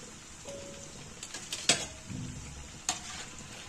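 Cutlets frying in hot oil, giving a soft steady sizzle with a couple of sharp clicks from a utensil against the pan, quiet and close, with no voices.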